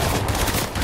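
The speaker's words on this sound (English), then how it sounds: "I need to reload, another team shooting." Gunfire from another team in a Fortnite duo match, a loud dense burst of rapid shots filling a short moment with no voices over it.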